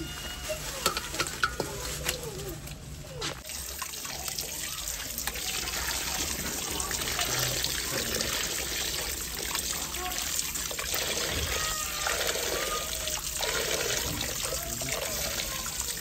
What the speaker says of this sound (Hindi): बीफ जो है ना अच्छे तरीके से वॉश कर लिया है